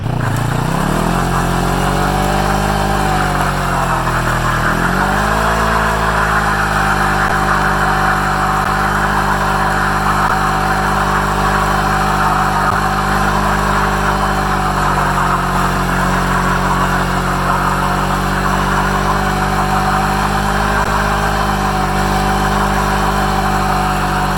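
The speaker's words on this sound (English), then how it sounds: "we're gonna burn this old tire off, Prince George style." A motorcycle does a burnout to wear off an old tire, its engine held at high revs in a loud, sustained roar with a broad hiss of spinning rubber, close and unbroken for over twenty seconds.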